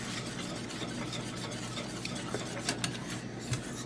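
Cornstarch custard being stirred in a pot over medium-high heat, a quiet, continuous scraping and swishing of a utensil against the pot, with a faint bubbling hiss and a few soft knocks.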